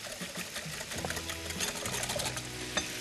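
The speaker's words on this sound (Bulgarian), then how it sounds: "Разбиваме и него." Batter mixed with yogurt is beaten in a bowl, a close, continuous whirring and sloshing churn that holds steady throughout.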